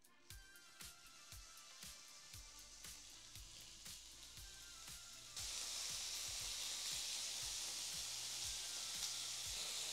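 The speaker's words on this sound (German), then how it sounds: "Und jetzt braten wir hier peu à peu unsere Spießchen an." Satay skewers fry in a hot pan, giving a steady close sizzle with scattered crackles and light clicks. The sizzle swells louder about halfway through as more skewers go in, with no talking.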